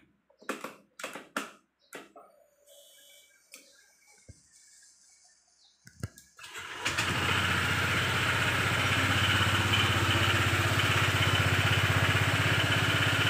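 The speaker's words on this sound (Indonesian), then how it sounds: "Oke, kita hidupkan mesinnya." A Honda PCX 160 scooter engine starts after a few knocks and handling sounds, then idles steadily and loudly with a continuous close rumble for the remaining seconds.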